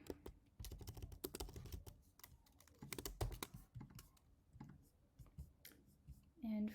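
Quick bursts of key clicks on a computer keyboard as an address and card details are typed, close and fairly faint, with uneven pauses between runs of keystrokes.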